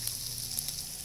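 Barbecued meat sizzles steadily on a grill as it is turned over, a close, continuous hiss with faint crackles.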